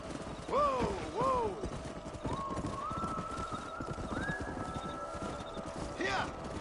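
Horses whinny twice in quick succession in a Red Dead Redemption game scene, with steady hoofbeats clip-clopping underneath, a tonal rising sound midway and a final neigh near the end over continuous background noise.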